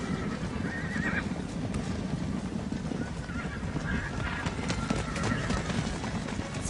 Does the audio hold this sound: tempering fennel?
no